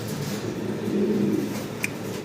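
A low, soft coo from young pigeons rises briefly over a steady background hum, close and gentle, with no talking.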